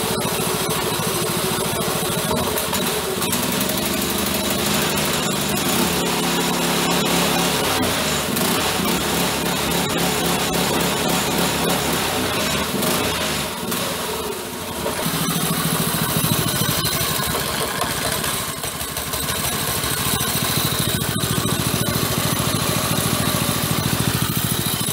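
The engine of a Blue Devil motorbike running loud and close, a harsh, buzzy mechanical drone with rapid rhythmic firing pulses that briefly dips, then settles back into a steady roar.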